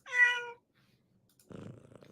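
A cat close by gives a short meow, then after a brief pause a soft low purr starts and carries on to the end, quiet and with no talking.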